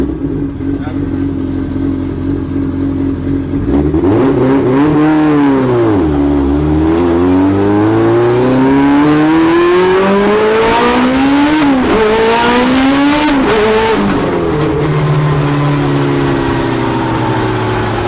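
A tuned Mitsubishi Evo of over 1000 horsepower pulls hard on the street, its loud engine rising through the gears with sharp shifts in between, roaring close and continuously, with voices underneath.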